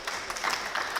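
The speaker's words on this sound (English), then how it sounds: "Will you guys clap for her?" Audience clapping at a Berkeley City College open mic, a brief, faint patter of hands from a small crowd, even and unbroken.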